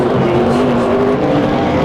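NASCAR race cars at Talladega in the 2009 AMP Energy 500, engines droning loud and steady with a sustained high roar throughout, no voices.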